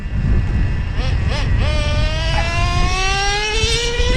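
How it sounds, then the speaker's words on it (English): A Traxxas Slayer PRO 4x4 nitro RC truck engine buzzing with a high-pitched whine that sweeps and rises steadily like revving, loud and close over low background rumble. "the Slayer is idling right there in the background"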